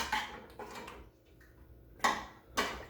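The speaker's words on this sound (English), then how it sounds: "So then let's mix this all together" A spoon stirring habanero maple peanut butter sauce in a bowl, giving a few scattered clinks and scrapes at an uneven rhythm, close and fairly quiet, with brief pauses between strokes and no talk.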